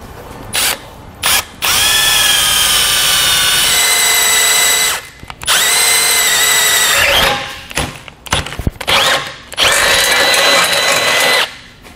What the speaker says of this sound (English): We can now take a half inch drill bit and we're going to drill out all the holes that we had marked.